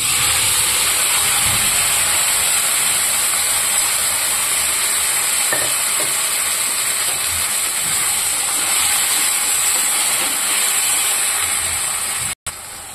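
Boiled drumsticks sizzle and fry with browned onions in a hot pan, a loud, steady hiss with faint stirring scrapes throughout and no talking.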